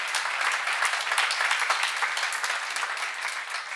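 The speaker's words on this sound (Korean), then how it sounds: "지금 빨리 박수를 하세요" A church congregation at a sermon seminar breaks into brisk, dense applause, a steady wash of many hands clapping close by for a few seconds without any voices.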